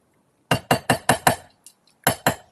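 Chasing hammer strikes a metal jump ring on a jewelry bench block, ringing out in a quick run of five bright metallic taps, then a faint tick and two more crisp blows, close and clear with no talking.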